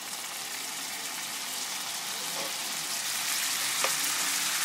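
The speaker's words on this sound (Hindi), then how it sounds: "अब हमने जो टमाटो काटे हुए हैं इस तरीके से ये सारे डाल देंगे" Chopped tomatoes go into a pan of browned onions and fry with a dense, continuous hiss that stays steady and close, with a faint tap or two and no voices.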